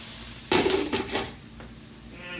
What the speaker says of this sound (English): I'm going to get a lid and put on that so it can cook a little faster.